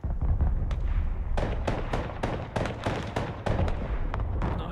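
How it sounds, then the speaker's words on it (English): Heavy artillery fire in the video game Broken Arrow, a rapid series of booming blasts and sharp cracks over a constant low rumble of battle, with no talk over it. "Heavy artillery."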